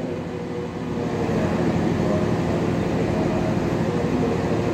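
The Bengawan passenger train sits at Jatinegara station, giving off a steady low rumble and hum that swells slightly after the first second and then holds at an even, fairly loud level with no voices.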